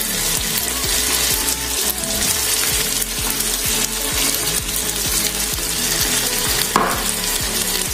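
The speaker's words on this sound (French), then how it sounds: "j'ai donc mis les tomates et je vais laisser bien mijoter aussi" Tomatoes and leek bubble and sizzle in a pan, giving a steady, fairly loud frying hiss with a rhythmic ticking pulse throughout and a brief stir near the end.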